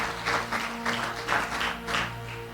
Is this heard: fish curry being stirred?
no